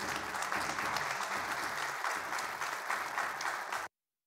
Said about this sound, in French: Merci pour les applaudissements, ça me va droit au cœur.